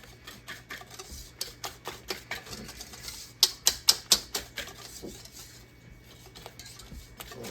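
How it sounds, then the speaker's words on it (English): A whisk beats flour into dessert batter in a bowl, making a quick run of rhythmic clinks and taps against the bowl that peak in a louder flurry and then settle. "And they say add the flour to this. We'll whisk that up too."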